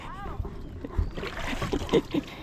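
Water splashes and sloshes inside a small wooden boat as it is bailed out by hand, giving irregular scoops and spatters under people talking nearby.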